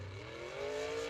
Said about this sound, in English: UMP Open Wheel Modified qualifications on the track. First car out, car number 37L.